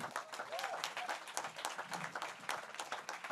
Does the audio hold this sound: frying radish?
no